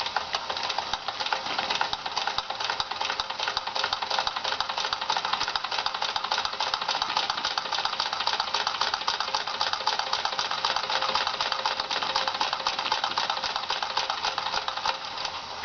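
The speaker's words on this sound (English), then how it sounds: "it's the smoothest running steam engine I've ever owned" A Wilesco D22 model steam engine from the 1970s, fired by a butane burner, runs steadily with a continuous, even mechanical chatter and rattle that holds at a constant close level throughout.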